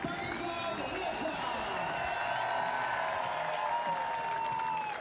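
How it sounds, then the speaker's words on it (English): Crowd at the finish of the 2015 Vasaloppet cross-country ski race cheering and applauding steadily as a Czech skier crosses the line, a dense continuous roar with a commentator talking over it. "Big cheer for him as he crossed the line"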